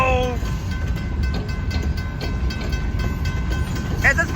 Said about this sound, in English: Wow, we caught an Ann Arbor Railroad today.